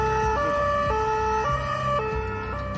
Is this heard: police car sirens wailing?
yes